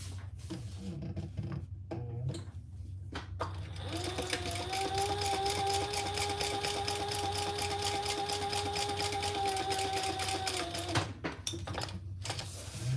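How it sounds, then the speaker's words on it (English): A sewing machine back stitching over card slots runs in a steady, fast mechanical whir for several seconds, with short bursts and handling clatter before and after the main run. "Just back stitching over my card slots there so when they get used in and out, they won't come apart."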